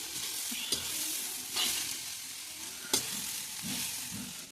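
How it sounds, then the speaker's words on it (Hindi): Grated carrots cooking in desi ghee in a large kadhai over a wood fire in Himachal, a dense steady hiss and sizzle with a few sharp stirring knocks, close up and with no talking. "रख दिया है मैंने गाजर का हलवा"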